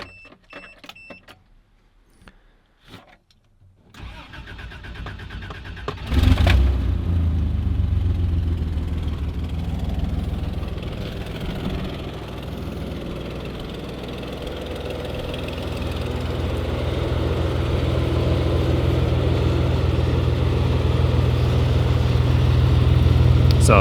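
A Toyota Land Cruiser engine starts after a few seconds of quiet handling noise, then settles into a steady, fairly quiet idle with a low rumble and slight knocking texture, continuing close by without talk.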